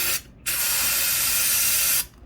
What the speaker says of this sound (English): we're going to spray this right into the cylinder hole